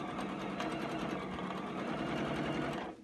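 A sewing machine runs steadily while chain piecing quilt block fabric, a continuous close, loud mechanical whir that holds for about three seconds before stopping abruptly.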